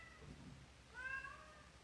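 A pet cat meows once indoors, a short, faint, tonal cry that rises and falls, heard alone against a quiet room.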